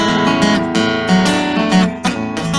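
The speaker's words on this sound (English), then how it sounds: "when I voice it with the using the inside voicing and the open strings" Guitar chords played with inside voicings against ringing open strings, bright sustained strums that overlap in quick succession, loud and close with no talking.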